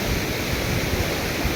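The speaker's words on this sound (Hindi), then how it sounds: "ये बहुत ही अच्छा वाटरफॉल लगता है, झरना लगता है क्योंकि बहुत हाइट से गिरता है" The Lakshman Ganga waterfall pours from a great height on the trail to Shri Hemkund Sahib, a dense, steady broadband roar filling the whole moment without pause.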